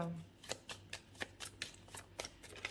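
Tarot de Marseille cards being shuffled, a quiet run of brisk riffling flicks repeating about every quarter second, close and soft with no talk over them.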